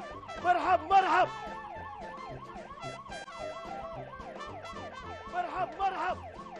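An ambulance siren wails in a fast, steady up-and-down cycle, loud and close, with brief bursts of voices over it at the start and near the end.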